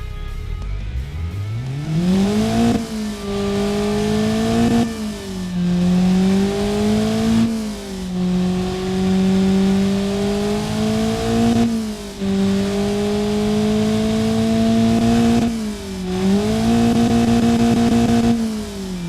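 A replica Honda D16A engine model with cast pistons, connecting rods and crank runs close up, its small motor whining in rising and falling cycles as it revs repeatedly.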